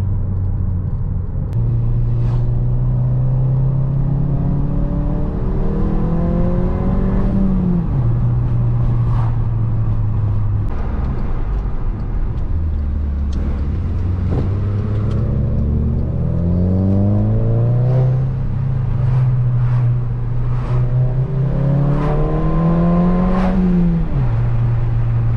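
Volkswagen GLI engine heard from inside while driving, a loud steady drone that repeatedly climbs in revs and drops back as it shifts through the gears, with road rumble underneath and no talking.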